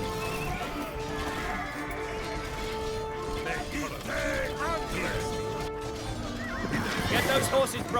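Horses whinny several times over a busy strategy game soundscape in an Alexander the Great campaign, with hoofbeats and clatter underneath and a voice murmuring in the background.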